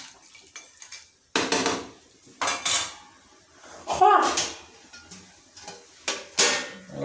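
A vessel is set over a pot of chicken curry as a lid, making a handful of sharp metallic clanks and scrapes at irregular intervals, with quieter rattles in between.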